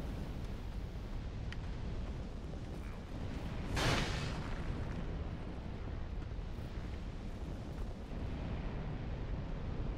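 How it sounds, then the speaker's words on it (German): Explosive barrels blowing up in Dark Souls 2, heard as one broad, roaring burst near the middle of a steady rumbling game backdrop, with no talk over it. "Ja, das sind Explosionsfässer."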